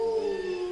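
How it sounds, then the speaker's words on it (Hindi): Wild dogs in a jungle give a steady, drawn-out howl, a single sustained tonal cry that is moderately loud against a faint background. "और जंगली कुत्तों की भौंकने की आवाज"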